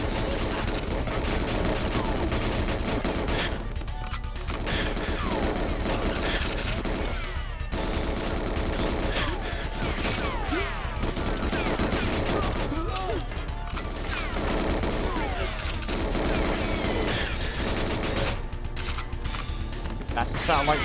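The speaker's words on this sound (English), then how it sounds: "Stop shooting me." Gunfire in GoldenEye 007, with repeated shots and crashes bursting through loud continuous game music and effects for about twenty seconds.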